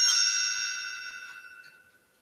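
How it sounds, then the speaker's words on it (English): A single bright chime rings out alone as a page-turn cue in a read-aloud storybook, clear and ringing at first, then fading slowly over about two seconds. "You will know it's time to turn the page when you hear a chime"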